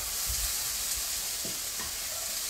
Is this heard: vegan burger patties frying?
yes